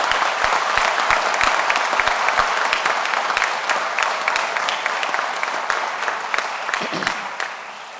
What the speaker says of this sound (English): How about a round of applause for our graduating class?